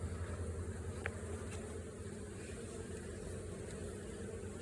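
Honeybees buzzing around an outdoor hive, a steady, continuous drone with a few closer passes, and no talking.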